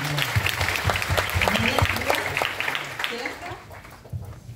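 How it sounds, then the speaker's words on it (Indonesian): Audience applause at a public talk, a steady dense patter of clapping throughout that tapers slightly toward the end, with some voices mixed in. "kita beri tepuk tangan"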